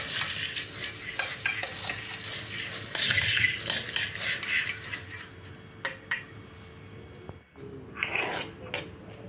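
Puffed rice jhal muri being stirred and tossed in a bowl at home, giving a steady dry rustling and scraping that runs throughout, with a few sharper clinks and a brief pause near the end.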